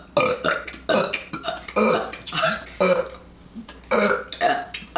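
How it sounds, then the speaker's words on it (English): Repeated burps produced on cue at home, a run of about seven loud, close, croaking belches in quick succession with short gaps between them. "I can burp on cue"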